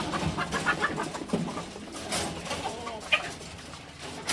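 Farm chickens clucking after being let out of their coop, a cluster of several birds calling in quick, irregular bursts at close to moderate distance, fairly faint overall with no talk.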